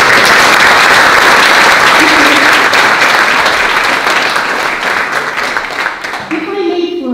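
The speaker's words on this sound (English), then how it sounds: "please receive our applause of gratitude" An audience at a Watsonville-Santa Cruz JACL 30th anniversary civil liberties commemoration applauds in gratitude: loud, dense, sustained clapping that thins slightly near the end as a voice comes in.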